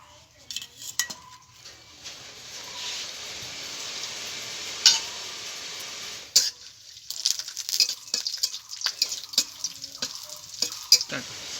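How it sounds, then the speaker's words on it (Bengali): Raisins, cashews and peanuts frying in a pan, with steady sizzling and the clink and scrape of a spoon stirring against metal, scraping bursts growing busier toward the end. "আমি এখানে কাজু, কিশমিশ আর কতগুলো চিনিবাদাম নিয়েছি। এগুলোকে ভেজে নেব।"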